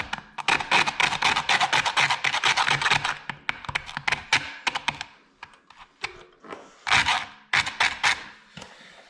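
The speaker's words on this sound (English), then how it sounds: "take like a knife or my 5-way tool and just scrape that stuff off" A knife or 5-way tool scrapes residue off a sanded original hardwood floor in a farmhouse, giving close, rapid bursts of scratchy strokes with brief pauses between them.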